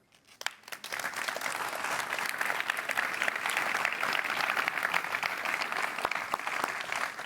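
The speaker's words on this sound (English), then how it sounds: "This is your applause." An audience at a conference stage session bursts into loud, sustained applause that rises quickly and holds steady with dense crisp clapping throughout, no talking over it.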